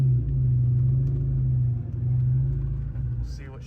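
A supercharged Saleen Mustang engine idles after a fuel adjustment, a steady close low rumble that dips briefly in the middle, with a voice speaking over it.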